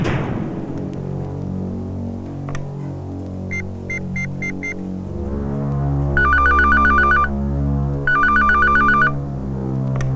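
A telephone rings in an office scene from a Marathi comedy film, repeated electronic trilling bursts over a low steady hum, close and clear, with no speech.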